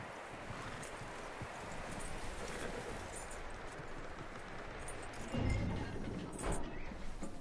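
Steady hoof clops of a horse walking in the video game Red Dead Redemption 2, over a continuous broadband rumble, with a few louder thumps toward the end; no voices.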